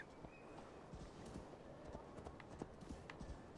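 A summoned horse in Assassin's Creed Valhalla trots up with quiet, rapid clip-clop hoofbeats, a faint steady rhythm over low game ambience.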